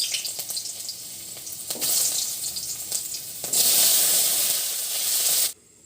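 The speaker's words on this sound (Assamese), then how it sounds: "এফালে অকণমান ভাজি বনাবলৈ বুলি লৈছোঁ মই" Food frying in a pan alongside a chicken dish, giving a loud, continuous broadband sizzle and hiss that swells and stays steady for several seconds before cutting off abruptly near the end, with no talking.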